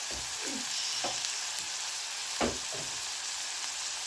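Kenyan omena fish fry in a little oil over a very hot fire, giving a steady, fairly soft sizzle broken by a few brief stirring scrapes and clinks.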